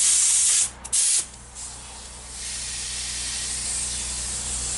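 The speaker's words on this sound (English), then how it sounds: "at this point I'm going to be ready to spray some primer." A paint spray gun running at about 20 psi blasts Rust-Oleum high build primer onto a Chevrolet Silverado OBS truck body, a loud, close, hissing spray that cuts out briefly twice, then resumes as a steady rush.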